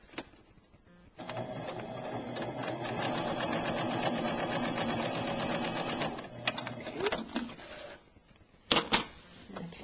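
Sewing machine stitching the corner of a quilt binding, a steady close mechanical whirr running for several seconds, then stopping, followed by handling clicks and rustles.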